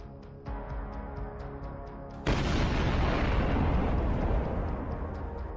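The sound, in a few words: landmine detonating under a retreating tank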